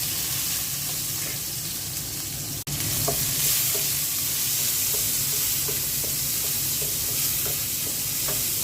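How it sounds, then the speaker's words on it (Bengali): Onions fry in oil left over from frying fish, giving a continuous dense sizzle with light stirring scrapes. The sound is steady and close throughout, with one brief dip, and no voices. "মাছ ভাজা তেলের মধ্যেই পেঁয়াজ দিয়ে দিচ্ছি"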